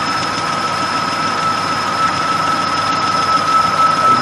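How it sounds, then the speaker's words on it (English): A Nissan VG33E V6 engine idles at operating temperature with a rattle, a steady close mechanical drone with a constant high whine and no talk. "we could hear that rattling as the temperature is now up to where it should be"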